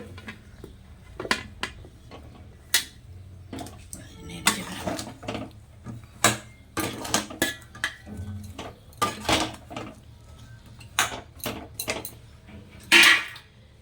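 Mango pieces shaken into a dish for pickle: a series of sharp, close clinks and knocks of a utensil tapping against a metal or ceramic bowl, irregular and repeated throughout over faint background hum.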